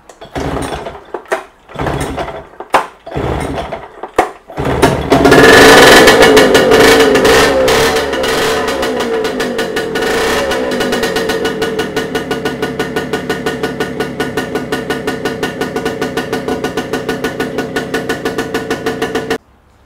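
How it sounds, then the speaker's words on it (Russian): A Yamaha 4.5A outboard motor with its carburetor just cleaned is pulled over in a few short bursts, then catches and runs loud and steady with a fast, even firing rhythm. "Попробуем запустить мотор,"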